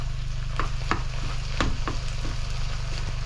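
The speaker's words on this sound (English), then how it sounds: "Our meat is cooking down really nice" Venison meat sizzles steadily on a hot plate in an off-grid cabin kitchen, a constant close frying hiss broken by several sharp scrapes of stirring, with a low electrical hum beneath and no talk.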